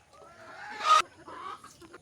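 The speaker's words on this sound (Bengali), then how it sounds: "আপনার এখানে দেখতে পাচ্ছি অনেক সুন্দর সুন্দর মুরগি আছে, হাঁস আছে" Chickens on a village poultry farm that also keeps ducks and pigeons cluck nearby in a short run of calls, rising to a louder squawk midway, with no talk.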